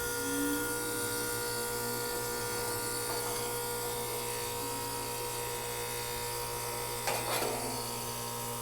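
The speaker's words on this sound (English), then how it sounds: "You can hear the compressor sound." An air conditioner compressor runs continuously with a steady electrical buzz and layered tonal hum, loud and close, while the unit's fan is not running; a brief metallic scrape stands out near the end.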